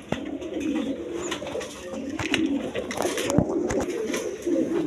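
Roman Gal and Giribaz pigeons coo near the listener in a loft, repeated low throaty coos with wing flutters and small knocks, fairly close and without talk.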